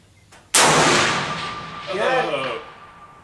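A single loud gunshot cracks at an outdoor gun range and rolls off into a long, fading echo, with people talking quietly beside it.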